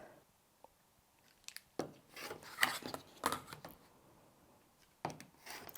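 Fabric being cut into 2.5-inch squares from a jelly roll quilting strip for a Chain Link quilt block: several quiet, rasping strokes in short bursts, with pauses between them.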